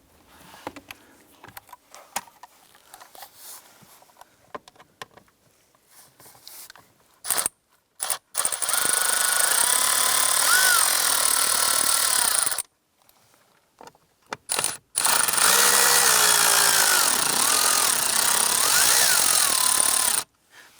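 A power driver with a Torx bit removing screws from a 2015-2020 Cadillac Escalade blower motor, two sustained whirring, ratcheting runs of several seconds each, preceded by quiet fumbling and clicks.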